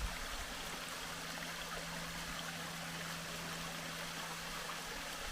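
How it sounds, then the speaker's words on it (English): Small cascading waterfall on Walden Creek near Dahlonega, Georgia, a faint, even, continuous rush of falling water with no voices. "beautiful little cascading waterfall"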